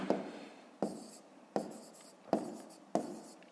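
Pen strokes on paper come in five sharp, scratchy bursts at roughly even intervals, close and quiet, each starting with a crisp attack and trailing off before the next, with no voices.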